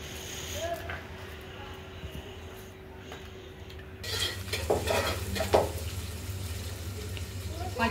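Green chillies and chopped onions hitting hot oil in a pan for chicken curry, with a faint low sizzle that swells into louder frying and stirring scrapes in the second half, plus clattering of utensils and muffled voices in the background.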